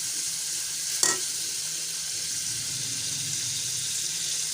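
Onions sizzling steadily in hot oil for chicken manchurian, a dense continuous fry with one brief clatter of stirring near the start, no voices.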